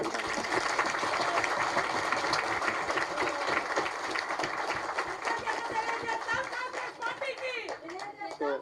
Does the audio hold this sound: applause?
yes